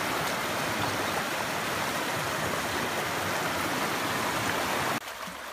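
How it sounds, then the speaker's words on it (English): A river rushes through the jungle of southern Costa Rica near Uvita, a loud, steady roar of flowing water close by with no voices, dropping abruptly in level near the end. "Gotta cross the river."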